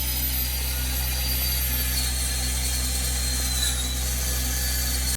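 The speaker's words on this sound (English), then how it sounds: "now we're cutting the party board to frame the inside between the bunkers so it looks nice and clean" A power saw whines steadily through particle board inside a luxury doomsday bunker under construction, a loud continuous close cutting drone with no pauses and no voices.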